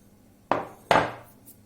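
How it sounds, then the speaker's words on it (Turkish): Two quick knocks of a wooden spoon against a bowl while stirring gluten-free lavash dough, close and clear with short ringing tails. "Önce tahta bir kaşıkla hamurumuzu karıştırıyoruz"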